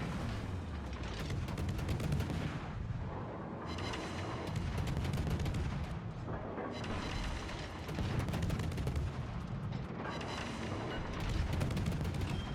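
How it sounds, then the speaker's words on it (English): Naval gunfire in a warship video game comes as heavy booming salvos in roughly three-second waves, dense and loud, with rumbling battle noise continuing between them and no voices. "Napoli shooting us as well"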